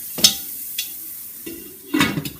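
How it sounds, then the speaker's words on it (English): Bacon pieces sizzle in oil while being stirred, with a few short scraping and clinking bursts of a utensil against the pan over a soft steady fry, close up and with no talking. "you begin instantly stirring it, just to allow all the bacon pieces to be covered in oil so that it does render off properly"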